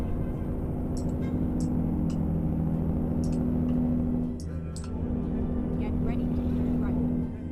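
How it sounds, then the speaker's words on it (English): A Cummins truck engine in American Truck Simulator growls with a low, steady, humming drone that holds even and fairly quiet throughout, with a few faint clicks above it. "that Cummins growling sounds amazing"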